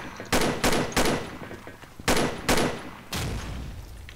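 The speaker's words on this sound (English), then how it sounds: "I can hear bullets, they come from behind" Video game gunfire: six sharp loud shots in two quick bursts of three and two, then a single final report, each with a short ringing tail.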